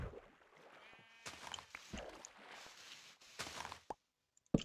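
A few Minecraft sheep bleats sound over a quiet outdoor game ambience, with soft shuffling steps and small plopping noises between them.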